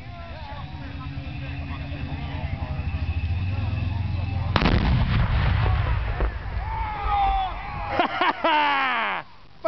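About twelve pounds of tannerite and gasoline detonate outdoors: a low rumble builds, then one loud, sharp blast hits midway and rolls into a booming tail, followed by scattered whooshing and crackling near the end.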